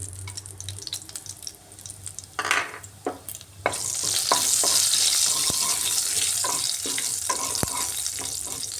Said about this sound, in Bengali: এই পটল ভাজার তেলেই ফোড়ন দিয়ে দিচ্ছি এখানে আস্ত জিরে আর দারচিনি